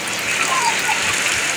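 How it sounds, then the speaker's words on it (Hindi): Heavy rain pours down over a village and its fields, a dense, loud, continuous hiss of water striking surfaces. "ये दृश्य देखियो ये सब पानी पड़ रहा है, एमे पानी बह रहा है"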